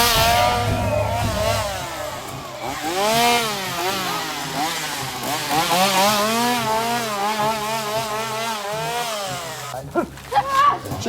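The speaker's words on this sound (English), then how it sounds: "I hear the chainsaw." A chainsaw running at a Halloween scare, its engine revving up and down in repeated loud sweeps for several seconds before cutting out, with voices shouting briefly near the end.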